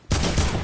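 Rapid burst of video game gunfire in an arena duos match, a dense, loud volley starting abruptly after a brief quiet moment and continuing without pause.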